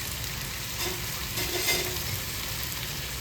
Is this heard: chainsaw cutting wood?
no